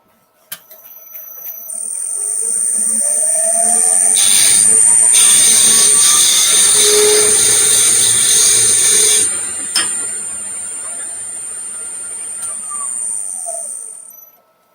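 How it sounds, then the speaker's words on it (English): A carbide cutter shears wood spinning on a lathe, producing a loud, steady, harmonic whine with a high ringing tone that holds for about nine seconds, then eases to a softer cutting hum before stopping. "That harmonic kind of sound where all of the wood is touching across the face of that little carbide cutter."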